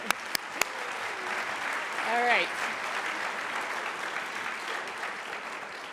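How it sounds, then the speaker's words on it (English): Sustained applause from a summit closing ceremony crowd fills the room at steady loudness, with a brief spoken remark and a rising voice partway through. "One more round of applause."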